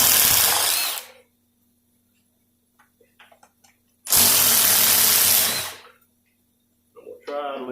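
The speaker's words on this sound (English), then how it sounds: "I can get most of them with an impact wrench" An impact wrench removes bolts from the overdrive unit of a Dodge 46RE transmission during a rebuild. Two loud bursts of rattling hammering are separated by a quiet gap with a few small clinks, followed by a brief spoken remark.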